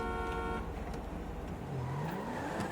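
A car drives in the video game GTA 5, a continuous engine drone with a rising rev toward the end, no talk.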